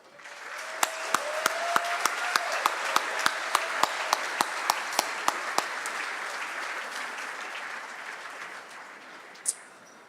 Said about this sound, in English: ask that you give yourselves a round of applause